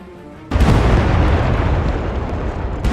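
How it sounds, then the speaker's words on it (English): A bomb explosion sets off an enemy carrier's ammunition in Nuclear Option, a sudden heavy boom that rolls into a long, roaring rumble of blasts and debris, loud and sustained. "The explosion causes an ammunition detonation."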